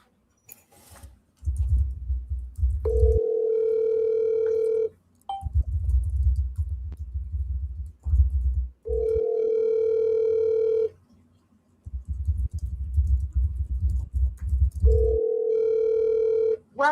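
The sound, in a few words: telephone dial tone while dialing a call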